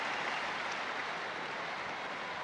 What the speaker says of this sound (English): Another huge cheer for another Gunners fan.